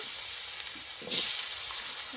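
Cut potatoes frying in oil left over from frying fish make a soft, steady hiss up close, swelling briefly louder midway, with no talking.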